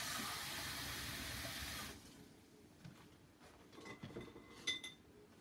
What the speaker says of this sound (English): Got to put my brush in the water.